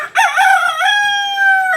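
A neighbourhood rooster crows once, loud and near, one long drawn-out call that rises and then holds a steady tone to the end.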